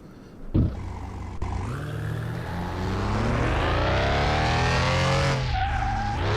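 A car engine in Car Mechanic 2021 revs hard during a speed check, starting with a sharp burst and then climbing steadily in pitch and loudness before easing off, with no talking.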